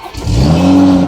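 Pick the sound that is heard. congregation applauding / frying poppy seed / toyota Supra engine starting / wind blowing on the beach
toyota Supra engine starting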